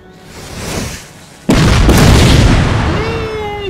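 A deep, loud cannon blast booms out suddenly after a quieter rumble in Total War: Napoleon, followed by a lingering roar and a rising whistle of game effects.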